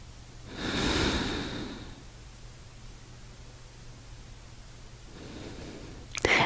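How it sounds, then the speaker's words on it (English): A person breathes slowly in and out through the nose during a lower back and hip stretch, one long airy breath, a quiet pause, then another breath starting, close and soft. "inhale and exhale through the nose"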